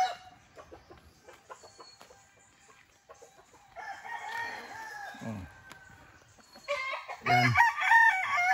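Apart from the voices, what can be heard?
Boston Roundhead gamecock stag crowing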